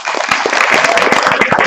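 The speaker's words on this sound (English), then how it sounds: "Please give her a round of applause as we welcome her to the stage." An audience at a 4-H state leadership conference bursts into loud, close, dense applause, many hands clapping at once in a brief welcoming burst.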